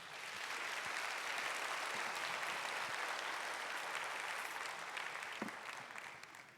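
A church congregation at a Sunday young-adults worship service applauds steadily for several seconds, a dense, even wash of clapping from a large room that fades slightly at the end.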